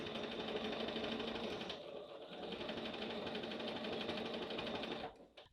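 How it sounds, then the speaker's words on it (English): A sewing machine backstitches across a fabric coaster, running steadily and close with a dense mechanical whir, briefly easing off near the middle and then stopping at the end. "Once we get to halfway of our coaster, we're going to stop and backstitch."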